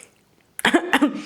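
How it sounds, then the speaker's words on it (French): After near silence, a person gives a short, close fit of two or three coughs after tasting candied fruit paste. "Quand je l'ai goûté, ça m'a me fait tousser"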